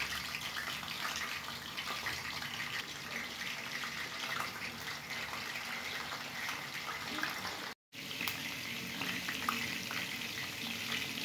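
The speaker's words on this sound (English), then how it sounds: "Place a frying pan over a medium flame and add cooking oil." Sausages sizzle and crackle steadily in cooking oil in a pan over a medium flame, a dense hiss throughout with a brief break near the end.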